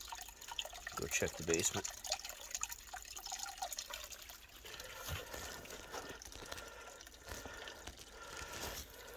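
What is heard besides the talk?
water flowing out of a cleared floor drain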